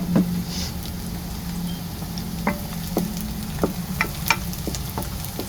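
Garlic sizzling in hot oil in a pan while browning for squid adobo (adobong pusit), a steady soft frying hiss with scattered crackles and spatula scrapes, no talk.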